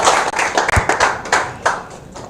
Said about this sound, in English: A round of applause to Al Shifa team.